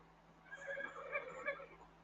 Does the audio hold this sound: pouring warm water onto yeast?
no